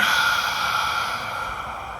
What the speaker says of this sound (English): we'll exhale a little bit exaggerated out through the mouth just to cleanse things out